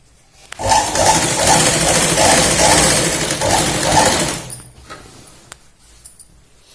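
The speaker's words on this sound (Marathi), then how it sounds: "या पद्धतीने आपण याला शिलाई लावून मग याला आपण सरळ करणार आहोत" A sewing machine stitching a salwar waistband runs as a loud, close, rapid mechanical whir for about four seconds and then stops, followed by a few faint clicks and handling sounds.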